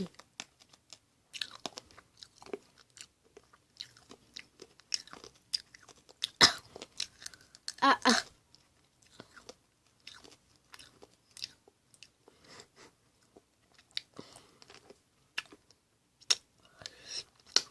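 Someone chews and crunches Japanese hard candy, close and in a quiet room, with irregular crisp cracks and bites, louder crunches around the middle, and small clicks between them.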